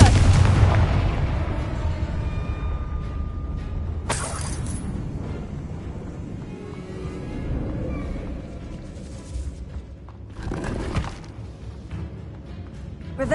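A Confringo fire spell in a witch adventure video game bursts with a loud booming blast, followed by a dense rumbling wash and a second sharper crack partway through, with the heavy low roar continuing throughout.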